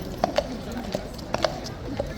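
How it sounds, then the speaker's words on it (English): A rearing horse's hooves strike the yard in irregular, sharp clip-clops, about six knocks in pairs, heard beneath people talking. "Horse is rearing, look at this."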